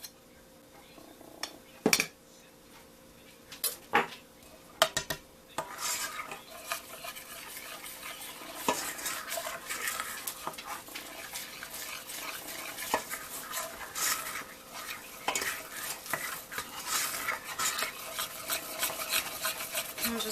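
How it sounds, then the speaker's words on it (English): Powdered sugar is stirred into homemade caramel icing for a banana cake, with a soft, continuous scraping and a few sharp clinks of the utensil against the bowl. The stirring is quiet and no one speaks. "And just keep stirring until we get a smooth consistency"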